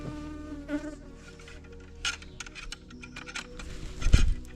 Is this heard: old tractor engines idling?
no